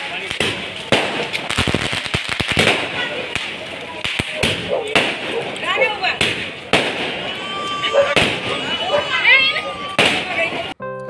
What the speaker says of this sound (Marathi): रात्री 12 वाजता हा आहे फटाक्यांचा जल्लोष